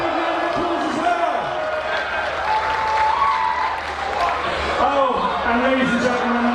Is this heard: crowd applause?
yes